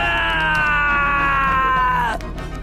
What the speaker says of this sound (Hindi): उनकी दर्द भरी चीखें पूरे कमरे में गूंजने लगती